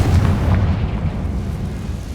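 A Confringo blasting spell in the Hogwarts Legacy video game lands as a loud, deep explosive boom with a heavy low rumble that slowly decays over about two seconds.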